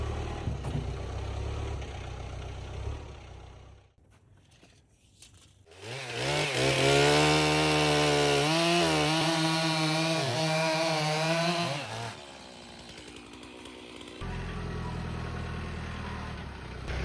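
A chainsaw ripping a log lengthwise into 6-foot 4x4 fence posts: the engine idles and revs before dropping into a loud, sustained high-pitched cutting whine for several seconds, then easing back to a lower idle.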